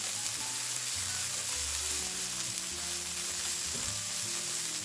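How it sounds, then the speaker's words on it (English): Veggie hash sizzles steadily in a hot pan while being stirred, a dense, constant frying hiss with low scraping and clattering of the utensil against the pan, close and fairly loud, with no talking. "Let's go ahead and give this a stir."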